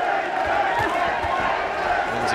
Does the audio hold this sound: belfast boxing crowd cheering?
yes